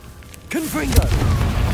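A Confringo blasting spell bursts in Hogwarts Legacy: a sharp boom hits midway, followed by crackling, rumbling debris, close and loud, after some quieter game sounds.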